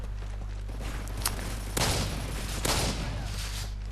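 Spas-12 shotgun blasts in an online shooter on the Mission map, two booming shots about a second apart over steady in-game background noise.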